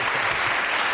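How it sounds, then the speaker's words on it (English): A television comedy panel show's studio audience breaks into loud, dense applause, a thick, continuous roar of clapping filling the whole moment. "Al Murray, give him a round of applause"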